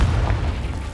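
A Confringo blasting spell explodes in the video game Hogwarts Legacy, giving a short, dense, low booming blast that fills the whole moment with no voices.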